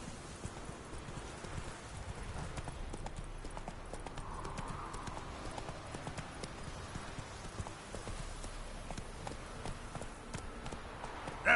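Hooves of the horse Roach clip-clop in a quick galloping rhythm in The Witcher 3: Wild Hunt, a steady run of close, even beats that continues throughout at moderate, fairly quiet level.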